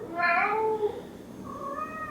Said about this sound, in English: Where's my hungry cats? Where's the chorus?